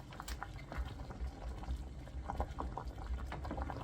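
Broccoli and Stilton soup with potato bubbles in a pot, a steady close burble of low popping bubbles and soft liquid patter with no talk.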